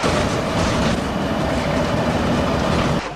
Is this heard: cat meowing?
no